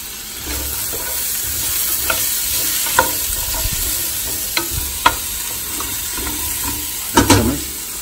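Onion and spices toast and fry for aloo gobi in a pan, a continuous close sizzle punctuated by occasional sharp spatula knocks and scrapes, with a louder clatter near the end and no speech.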